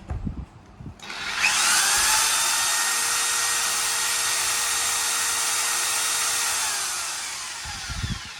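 An electric drill and a fan on speed three run together off a 1600 W 12 V pure sine wave inverter: a high, steady electric whine starts abruptly, lower motor hum underneath, tapering off near the end.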